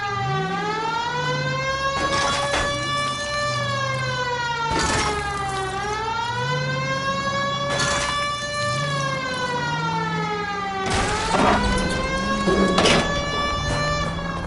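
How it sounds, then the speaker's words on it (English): A wailing police car siren in the video game L.A. Noire rises and falls steadily and loudly throughout, with repeated bursts of broadband engine or crash noise cutting in over the sweeping tone. "At least if you put the siren on, it'll let people know what's happening before you hit them, Phelps."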